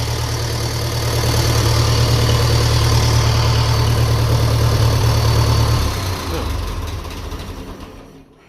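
A 1957 Ferguson FE35 tractor with a TVO engine runs steadily close by, a thin whine riding over its low rumble before the engine note drops and fades near the end.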